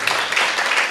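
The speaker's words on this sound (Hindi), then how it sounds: "जी, एक अच्छी ताली के साथ बैठ जाए।" Audience applause after a prayer at a church gathering, a dense, steady wash of many hands clapping at once, loud and sustained through the short stretch with no voices over it.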